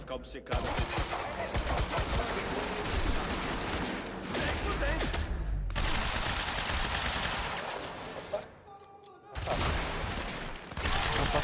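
Rapid gunfire from shooting enemies in the video game Quantum Break: dense, loud bursts run almost without a break, pausing briefly twice before the firing resumes.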